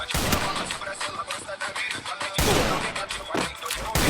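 Rapid gunfire in the Free Fire shooting game, dense bursts of sharp shots in quick succession, with a louder volley midway.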